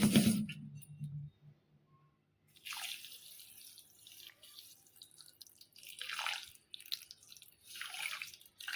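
Water is poured over half a kilo of sugar in a pot while making a sweet, coming as short splashing and trickling bursts with quiet gaps between them, close and fairly soft.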